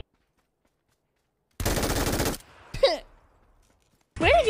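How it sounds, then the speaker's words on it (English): A burst of rapid machine gun fire from a very powerful gun in a video game lasts under a second, loud and dense. It stops abruptly, and a few short spoken exclamations follow. "It's actually the most powerful machine gun in the world."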